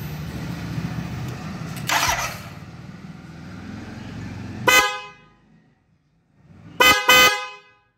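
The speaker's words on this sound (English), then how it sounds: "Let me show you how these horns sound." Chrome twin-tone trumpet horns on a Royal Enfield Interceptor 650 sound two loud blasts, one near 4.7 s and a longer double honk near 7 s, after idling engine noise early on.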